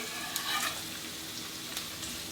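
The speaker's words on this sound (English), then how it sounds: "So now I'm going to add garlic here" Garlic sizzling with onions in a frying pan, a soft continuous frying hiss with a few brief crackling bursts, quiet and close, no talking.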